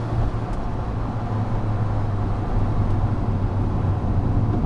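Steady, loud road and engine drone inside the cabin of an Alfa Romeo 4C Spider Final Edition on the move, a continuous low rumble with no talk.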